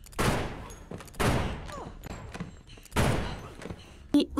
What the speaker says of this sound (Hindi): कैरल उन पर गोलियां चलाकर सभी को मार डालती है